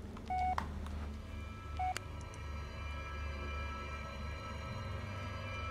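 Short electronic phone beeps from a handset in the horror game Blair Witch, two brief tone bursts near the start and again just before two seconds, over a low ambient hum and faint background.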